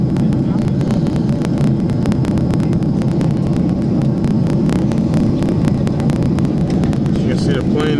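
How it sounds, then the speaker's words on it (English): Steady, loud airplane cabin roar from an airliner on final approach to landing, a continuous broadband engine and airflow drone that holds evenly throughout with faint clicks and rattles over it. "You can see the plane is turning now, making its final approach."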